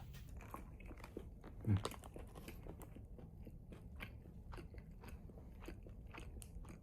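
Chicken bought at a supermarket abroad is eaten up close, with quiet crunchy bites and chewing in an irregular rhythm, one sharper crunch standing out, over faint room noise.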